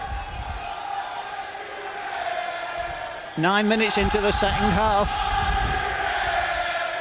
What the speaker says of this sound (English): the Robins crowd really getting behind their team now